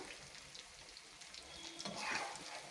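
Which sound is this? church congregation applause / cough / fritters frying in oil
fritters frying in oil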